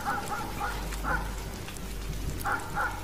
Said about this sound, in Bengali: একসঙ্গে অনেকগুলো কুকুর ডাকছে,